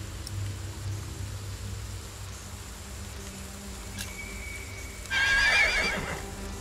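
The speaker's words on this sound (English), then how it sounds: "Don't you dare touch William's horse!" A horse whinnies loudly and close by near the end in the video game Ken Follett's The Pillars of the Earth, a shrill wavering neigh rising over a steady low background hum of a medieval setting.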